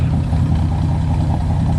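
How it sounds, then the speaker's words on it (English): A 1950 Chevrolet engine idles through a single 2¼-inch exhaust with a small round muffler, a steady, close, low rumble with an even pulsing beat. "that's what the old girl sounds like when she's ticking over"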